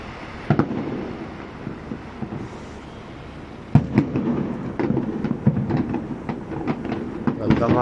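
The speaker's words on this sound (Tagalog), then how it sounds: "5 minutes fireworks display siguro yan." A New Year fireworks display at Mall of Asia crackles and booms in scattered sharp bursts, sparse early then coming in quicker volleys, with faint crowd murmur underneath.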